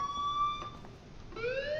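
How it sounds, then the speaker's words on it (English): A wailing emergency siren in the video game Life is Strange, steady tones gliding and then rising again, loud and continuous with no talk over it. "Let's calmly walk while there's a siren going off."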